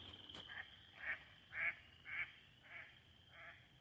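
Out on the tallgrass prairie at Midewin, a duck gives a series of six nasal quacks at a steady pace, moderately distant over a faint outdoor hiss.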